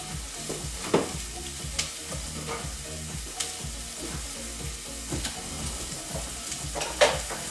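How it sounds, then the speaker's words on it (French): Chopped onions cut in large pieces frying in a pan while being stirred, with a steady sizzle broken by repeated scraping strokes and a few sharp utensil knocks against the pan. "Alors, on va les remuer ces oignons."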